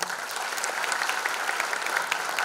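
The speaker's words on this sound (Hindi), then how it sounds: "उनके लिए एक बार और जोरदार तालियां" A large concert crowd applauds loudly and continuously for the musicians, a thick, even patter of clapping from start to finish.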